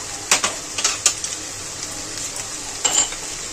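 Boiled potatoes frying in ghee with chopped green chillies, stirred in a pan; a few sharp scraping clinks of the spatula come in short bursts over a soft, steady sizzle, close up and with no talking.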